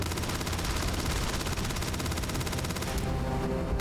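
Rapid automatic gunfire in the game Starfield, a dense, continuous stream of shots for about three seconds that stops abruptly, followed by a quieter tail.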